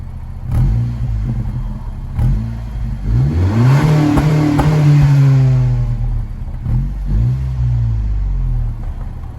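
A Honda Civic FK7 with the 1.5 turbo VTEC engine idles loudly, then revs in one rising and falling sweep that settles back to idle, with a few clunks at the start and end.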